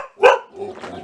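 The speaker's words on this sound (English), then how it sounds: "He can hear the bells, so he starts barking." A dog near sheep with bells lets out one sharp, loud bark close by, followed by a softer whine or grumble.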